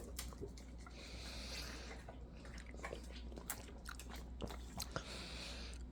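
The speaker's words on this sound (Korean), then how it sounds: "엄마도 먹고, 호두도 다 먹었어" A pet dog eats gold kiwi, with steady wet chewing and crunching bites repeating close up for several seconds, with no talk over it.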